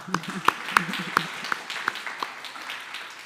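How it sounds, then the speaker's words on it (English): Applause at an annual meeting for an absent honoree: a handful of crisp, regularly spaced claps, loudest at first and then tapering, over faint talking voices in the room. "we'll give her a round of applause anyway"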